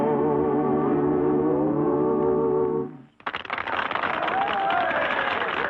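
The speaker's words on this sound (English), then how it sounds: "Just listen to that applause and watch their faces." Audience applause bursts out at an old-time barn dance right after a sung number stops: a dense, loud wash of clapping that fills the hall and holds steady to the end.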